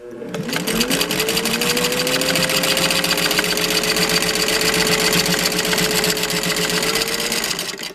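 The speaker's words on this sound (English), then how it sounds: "So this is a total of 4 layers with each seam, and through canvas paint and heavy cross-stitch fabric." Singer 15-91 sewing machine stitching through four layers of heavy canvas and cross-stitch fabric, a steady fast mechanical chatter with a rising motor whine that holds loud and even for several seconds before easing off.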